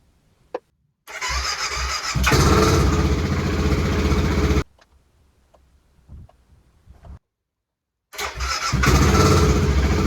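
BMW F650GS motorcycle with a rigid oil line cranking and firing into a loud run twice, separated by a quiet pause with faint clicks, close and without speech.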